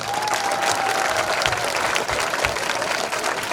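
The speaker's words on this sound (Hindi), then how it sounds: "इसलिए जोरदार तालियां अपने आप के लिए।" Students in an academy hall applaud loudly, a dense continuous roar of clapping that stays strong throughout, with a faint tone and scattered crowd noise beneath.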